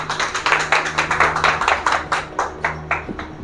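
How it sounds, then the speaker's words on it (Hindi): A congregation at a Sunday church worship service claps for Divya: a quick, steady run of about a dozen sharp hand claps at close range, with a low hum underneath. "सब ताली बजाएंगे दिव्या के लिए।"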